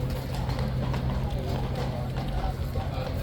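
Horses' hooves clopping on the way into a stable area in the morning, a dense continuous patter of many hooves at moderate distance, with a constant low rumble beneath.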